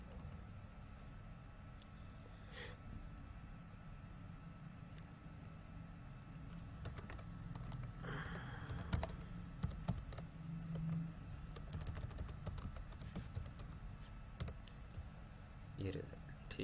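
Someone types on a computer keyboard while building a MATLAB calculator interface, producing scattered light key clicks in irregular bursts beneath a steady low room hum, with a voice talking over parts of it.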